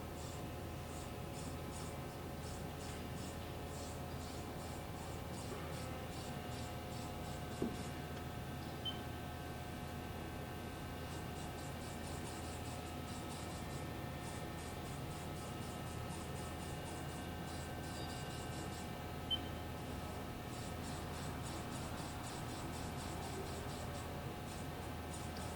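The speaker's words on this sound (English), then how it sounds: "Servo motors and ball screws sound good." Servo motors and ball screws of a Haas 4-axis horizontal machining center jogging its axes, a steady low mechanical hum with faint whirring and a few small clicks, running alone with no talk.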